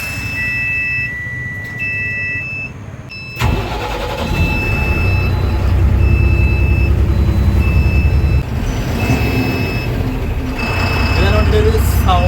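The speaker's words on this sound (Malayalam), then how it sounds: "അപ്പോൾ നമുക്ക് എന്തായാലും വണ്ടി ഒന്ന് സ്റ്റാർട്ട് ചെയ്ത് നോക്കാം." A Tata BS6 12-metre tourist bus engine starts up and settles into a steady, loud idle, with a brief electronic beep pattern repeating through the rumble.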